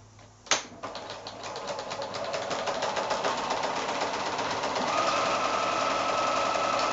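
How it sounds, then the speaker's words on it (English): A sewing machine stitches quilt squares from 5-inch fabric, starting with a sharp click and then running in a steady rapid mechanical chatter that grows slightly louder, close by and alone. "I'm just sewing to the left hand side of approximately 1/4 inch to the left hand side of that drawn line"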